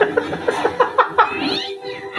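A cat gives a few short, high meows in quick succession, close and fairly loud, with a soft voice mixed in.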